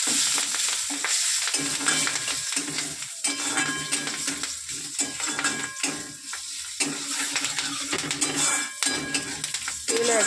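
Salt, turmeric and split chillies fry in a little oil in a pan, a steady crackling sizzle broken by the scrape and clink of stirring.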